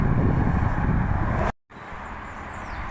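Steady, distant roar of road traffic on the A55 dual carriageway behind a wall near the main road into Bodelwyddan. The broad wash of noise drops out briefly midway, then returns more softly, with no one speaking.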